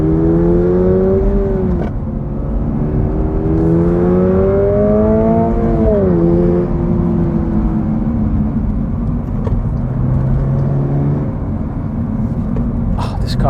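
A 2024 Subaru BRZ tS driven hard, its engine droning loud inside the cabin as revs climb and dip through gear changes, with steady road and tire noise and a voice talking over it.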